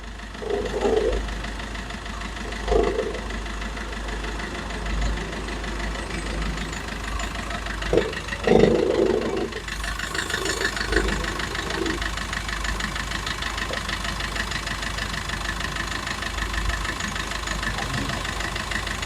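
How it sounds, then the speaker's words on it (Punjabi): A car engine idles at a steady, low mechanical hum for the whole stretch, with a few brief louder knocks and bumps near the start. "ਪਹਿਲਾਂ ਗੱਡੀ ਦੀ ਪਿਆਰੀ ਜੀ ਸਾਊਂਡ ਸੁਣੋ ਇੰਜਨ ਦੀ"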